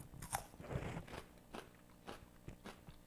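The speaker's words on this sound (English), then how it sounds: "I'm going to taste it with a piece of red pepper" Crisp bites into a piece of raw red pepper dipped in hummus, a close crunch followed by several soft, irregular chewing crunches in a quiet kitchen.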